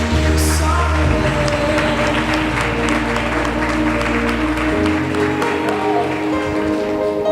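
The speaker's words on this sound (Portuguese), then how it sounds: "Vamos dar uma linda salva de palmas para o Senhor." A church congregation applauds in Brazil, with dense, loud, sustained clapping from many hands over a steady low musical drone.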